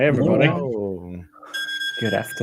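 A phone alarm sounds with steady high-pitched electronic tones after speech, ringing under talk that resumes near the end.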